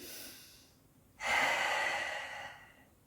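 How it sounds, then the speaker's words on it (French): A person draws one long, audible breath in during a floor exercise routine, close and steady, after a fainter earlier breath, with no talking. "J'inspire."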